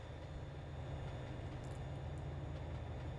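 AI-driven freight train rolling slowly in Trainz Simulator 2, heard as a steady, even low rumble and drone with no breaks.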